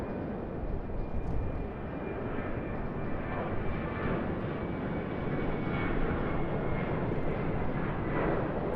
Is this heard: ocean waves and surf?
no